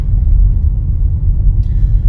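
A car cruises along the narrow, guardrail-free Sidewinder mountain road between Cool Springs and Oatman, giving a steady low engine and tyre rumble from inside the cabin with no talk.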